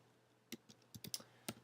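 Keys clicking on a computer keyboard while text is typed into a document, a quiet, uneven burst of about a dozen sharp taps in quick clusters, alone with no talk.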